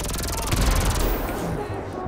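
Gunfire in GTA 5 with tanks and a helicopter in the fight, a rapid rattling burst of shots in the first half fading into a lower rumble, with a voice talking over it.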